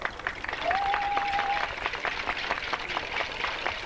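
A crowd applauds contestants at a local event in Attiékoi with steady, dense clapping, joined briefly by a thin whistle-like tone near the start.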